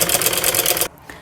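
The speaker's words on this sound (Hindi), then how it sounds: "तो चलिए हम अपनी सिलाई इसके ऊपर लगा लेते हैं एक बार।" A sewing machine stitches a seam on a wrap trouser, palazzo-style, in a fast, steady, rattling run for most of a second, then stops abruptly into near silence.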